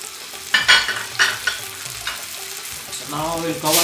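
Chicken malai tikka sizzles in a pan with melted butter, a close steady frying hiss punctuated by a few stirring or turning clatters and a brighter surge of sizzle near the end.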